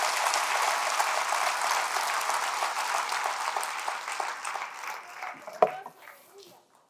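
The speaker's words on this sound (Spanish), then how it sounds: "Denle otro aplauso al Rey bendito." A church congregation applauds the blessed King in a loud, dense wash of clapping that gradually thins and fades out, ending with a few scattered claps and a sharp knock.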